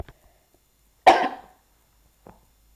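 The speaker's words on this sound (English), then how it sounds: "I keep on coughing." A single sharp cough rings out close and loud in a quiet room, followed a second later by a faint short throat sound.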